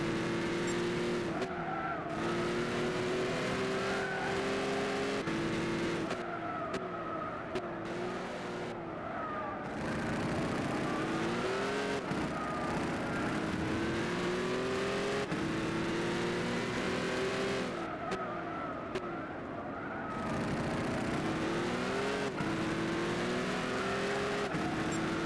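A Dodge Viper racing in Gran Turismo 6, its engine roaring loud and steady as it revs up and down through gear changes, with tire squeal under late braking and brief drops in pitch between corners.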